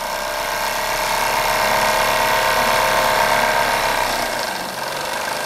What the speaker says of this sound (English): I love these steam engines.